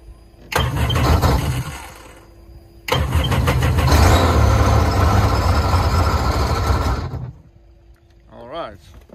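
A 2006 Sea-Doo RXT personal watercraft engine with a suspected blown head gasket cranks briefly, then starts and runs loud and rough for several seconds with a mechanical clatter before cutting off, followed by a short faint whistle.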